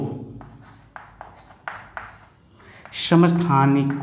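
Chalk or marker writing on a classroom board during a chemistry lesson on atomic structure, a series of short scratchy strokes in quick succession, followed by a teacher's voice speaking.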